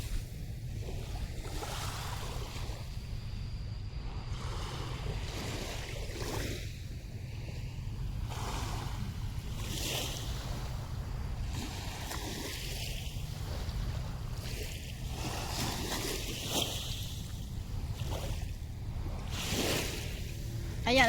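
Sea waves washing onto a beach at night at Port Dickson, a continuous rushing surf with gentle surges and some wind, steady and moderately loud, with faint voices now and then.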